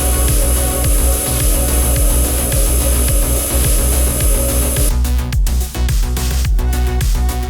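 A CNC machine drills at a 60-degree angle with a 1.1 mm bit, a dense continuous whirring grind with a steady pulsing rhythm that turns into scattered sharp clicks and scrapes near the end, loud and without voices.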